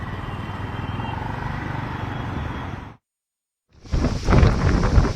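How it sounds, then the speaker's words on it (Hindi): Strong dust-storm winds blow through Delhi in a dense, continuous roar with rumbling buffets, broken by a brief silence before gusting back in. "तेज हवाएं जरूर चल रही हैं।"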